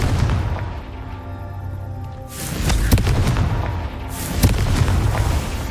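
Fiery explosion of the Confringo spell in the wizarding game Hogwarts Legacy: two deep booming blasts a couple of seconds apart, loud and broad, each with a crackling burst and a rumbling tail, no talk.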